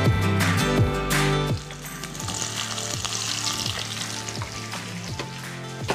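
Chopped green chillies and onions frying in a pan for chicken pulao, starting with loud crackling and spoon scrapes that settle into a softer continuous sizzle with occasional stirring taps.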